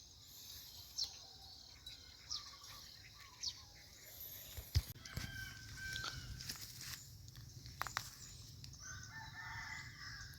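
Several short rooster crows ring out at a distance on a rural farm beside a pond, spaced a couple of seconds apart over steady insect and crickets' hum, with some clattering and rustling noises later on.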